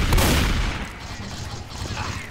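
Gunfire in the video game Left 4 Dead 2, a loud dense burst of shots at the start that trails into a rough, continuous roar of weapon noise.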